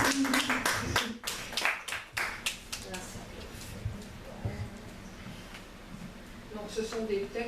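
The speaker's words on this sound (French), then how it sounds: "écoutez Malika, que je vous demande d'applaudir s'il vous plaît" Scattered audience clapping at an open-mic stage event, a burst of close handclaps at first that thins into sparse claps, with talking and background noise continuing throughout.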